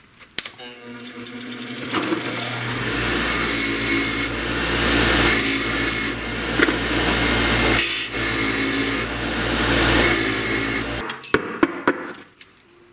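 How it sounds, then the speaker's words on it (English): A wire wheel on a power tool smooths wooden loom pegs, a loud rough whirring grind that runs in several long passes with brief dips, close up, ending with a few clicks and knocks. "One last pass with the wire wheel to make sure everything's nice and smooth."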